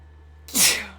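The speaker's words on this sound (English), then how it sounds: "I've had the sneezes for like a week." A single sharp, close sneeze bursts out after a moment of quiet low hum.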